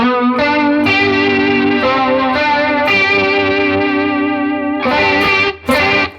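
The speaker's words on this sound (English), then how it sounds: "So now you can hear we're getting some chorusing." Sustained electric guitar notes shimmer with a wide, swirling chorus effect from a VB-2 style modulation, slightly distorted, changing chords a few times before stopping.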